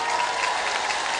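Audience clapping steadily throughout at an Islamic religious lecture, a dense, even wash of many hands with no voices standing out.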